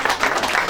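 Steady applause from an audience honoring an author at the launch of her eleventh book in Yerevan, a dense, even wash of many hands clapping at close range throughout the short moment, with no speech over it.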